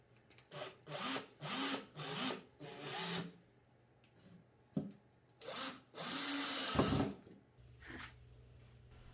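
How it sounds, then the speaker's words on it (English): Power drill driving 1-inch Kreg jig screws into the wooden legs of a piece of curbside furniture being refinished, heard as a series of short, close whirring bursts, then a longer steady run and a final burst. "used some 1-inch Craig jig screws to attach it into the legs"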